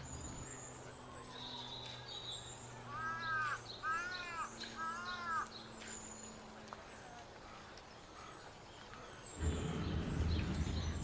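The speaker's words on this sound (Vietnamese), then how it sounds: "tiếng chim muông đua nhau hót" Crows caw in a few short bursts of calls at Meigetsuin temple in Kamakura, Japan. Fainter birdsong and a low outdoor hum sit behind them, and a louder rumble comes in near the end.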